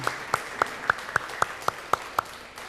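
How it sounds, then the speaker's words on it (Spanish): A church congregation clapping during a Spanish-language service, heard as nine distinct sharp claps in a slow, regular rhythm, moderately loud against a quiet room. "Dele un fuerte aplauso al Señor hoy."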